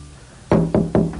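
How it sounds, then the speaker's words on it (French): Four sharp knocks on a door, loud and close, in an uneven rhythm with a short pause before the last, softer rap; no talking. "Toc toc."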